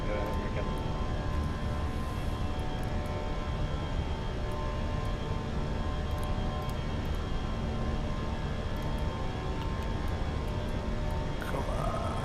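A Fenix A319-100 airliner rolls down the runway for takeoff from Atlanta in Microsoft Flight Simulator 2024, giving a steady, loud, broadband jet engine roar that holds for the whole stretch with faint cockpit tones on top.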